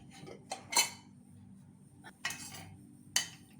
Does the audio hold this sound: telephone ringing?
no